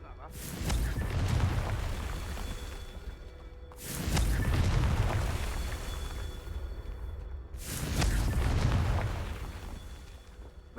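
Three heavy Confringo blasting-spell explosions from Hogwarts Legacy go off about four seconds apart. Each is a loud, deep boom that rolls on and slowly fades before the next one hits.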